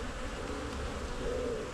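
An angry honeybee colony buzzes loudly and steadily up close, a dense continuous drone from a hive fitted with supers.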